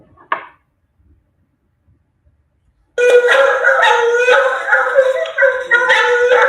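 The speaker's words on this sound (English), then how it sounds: "That's what hound dogs sound like." After a brief knock and near silence, several hounds used for capturing Florida panthers break into loud, drawn-out baying and howling together, close and continuous.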